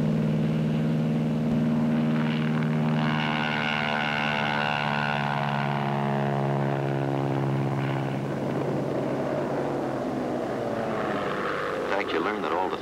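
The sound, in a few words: Grumman Hellcat fighter aircraft engine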